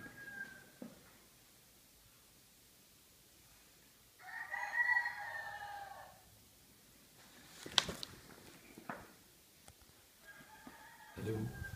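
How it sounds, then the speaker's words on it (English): A distant rooster crows once in a drawn-out call amid quiet outdoor ambience in Real de 14, Mexico, followed by scattered clicks and knocks. "Chicken rooster."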